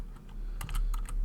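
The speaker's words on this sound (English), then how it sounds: "Let's type in winter." Fingers type a short search on a computer keyboard, a quick burst of close, crisp key clicks in two small clusters against a quiet background.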